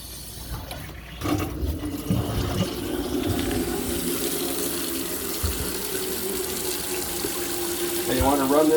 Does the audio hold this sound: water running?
yes